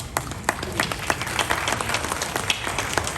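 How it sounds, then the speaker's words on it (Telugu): An audience at an Akkineni centenary celebration event claps together, a steady rush of many hands applauding with scattered sharp individual claps, moderately loud and sustained throughout. "మనందరం వారికి ఒకసారి చప్పట్లు కొడదాం సార్"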